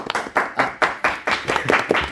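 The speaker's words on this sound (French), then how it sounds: "Nous avons Noé, Gaston et Pierre que je salue également, que j'applaudis." A television contest audience claps for contestants in rhythmic bursts, several sharp rounds of hand clapping in quick succession, close and fairly loud.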